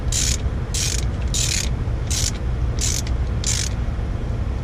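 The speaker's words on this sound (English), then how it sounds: "I'm going to stop and use the torque wrench." A torque wrench ratchets in short bursts while tightening the fuel injector bolts on an Evinrude E-TEC G2 outboard. About six crisp clicking strokes come at an even rhythm, close by and quiet, over a low background hum.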